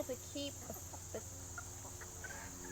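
Soft, scattered clucking from a few chickens kept in a barn alongside turkeys, fairly quiet, with short broken calls over a steady background hum.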